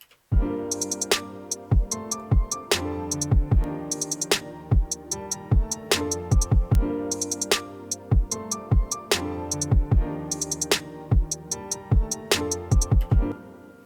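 An electronic music track with punchy, rhythmic drum hits over deep sub bass and layered synths, playing steadily at a loud level.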